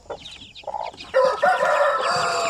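A hen clucks close by, her calls rising over the thin chirps and peeps of one-month-old native chicks, no talking.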